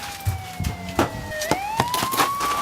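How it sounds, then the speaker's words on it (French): A police car siren wails with a slowly gliding pitch, moderately loud and a little distant, punctuated by several sharp knocks and bumps nearby. "D'ailleurs, je crois que j'entends des sirènes"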